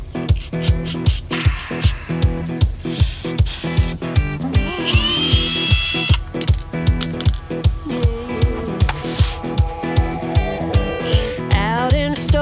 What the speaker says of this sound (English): my little battery drill here is incredibly powerful in terms of torque